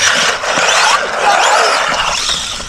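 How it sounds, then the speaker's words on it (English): A budget RD1201 RC car drifts, its tires hissing and squealing in a loud, continuous smear of skidding noise that swells and fades for a few seconds with no talk. "See if we can give it a bit of a drift."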